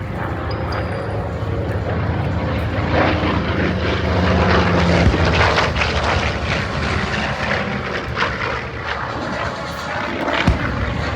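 A Chinook helicopter in a Vietnam-era Southeast Asian camouflage scheme flies past at an air demonstration, producing a loud, sustained rotor and engine roar that swells steadily as it passes close by.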